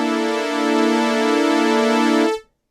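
A Novation Summit synth patch with a low-pass filter and added overdrive holds a fat, buzzy sustained note rich in harmonics, gently swelling before fading out sharply near the end, played alone.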